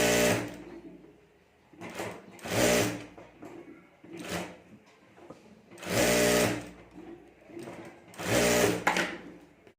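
A sewing machine stitches a plain fabric border over lining for a homemade clutch bag, running in several loud whirring bursts of a second or so with short pauses between them.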